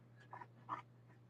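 A dog pants quietly at close range, giving two or three short, breathy puffs over a low steady hum, with no talking.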